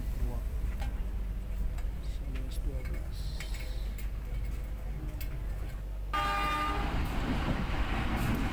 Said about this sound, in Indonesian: kereta api Serayu berangkat kembali setelah beristirahat beberapa menit